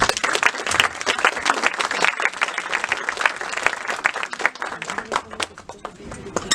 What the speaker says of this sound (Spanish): también pido un fuerte aplauso